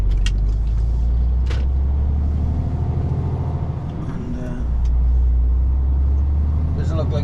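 Haulage truck carrying steel coils rolls up to site barriers, a steady loud low engine rumble throughout that dips briefly midway before swelling again, with a short hiss near the end.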